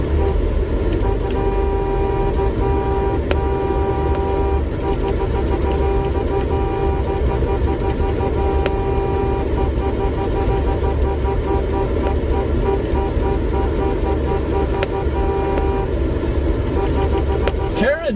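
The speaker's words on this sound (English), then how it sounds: "And it is those horns honking is part of our protest." Truck convoy horns honking in protest in Washington DC, a dense, loud, continuous wash of sustained horn tones over rumbling road traffic.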